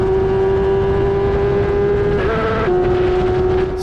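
An F3/F1000 single-seater race car at Silverstone GP, its engine held flat out in a loud, steady onboard drone, with a brief pitch shift partway through as it changes gear.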